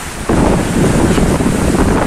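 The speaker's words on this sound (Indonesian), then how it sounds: "Anginnya masih sangat kencang ini dari tadi dari arah selatan ya." Strong southerly wind at sea buffets the microphone on a boat waiting at an offshore platform, a loud roaring rush that swells abruptly and stays steady, with waves and surf mixed underneath and no voices.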